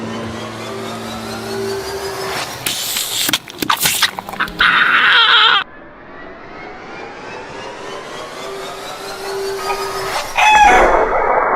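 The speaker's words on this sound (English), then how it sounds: "My little chickens." Chickens cluck loudly and a rooster crows close by, mixed with sharp bursts of clattering noise and rising sweeping tones, with no talking.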